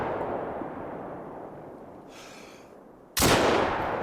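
A Greleck Drilling Rifle fires a single sharp, loud gunshot near the end in theHunter: Call of the Wild, following a stretch of quiet outdoor ambience.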